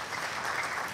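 A church congregation applauds together during a sermon in a dense, steady wash of clapping that fills the space with no gaps, loud and close.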